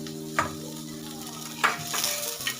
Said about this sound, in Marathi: इथं कांदा टोमॅटो पण परतून झालाय